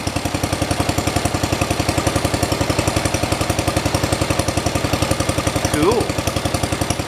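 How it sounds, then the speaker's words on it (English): A 1973 tractor's Kohler K301 engine idles after a valve adjustment and head gasket repair, a steady, even low chugging that runs throughout, close and loud, with a brief metallic squeal near the end. "Seems like it's idling a lot better after I adjusted the valves."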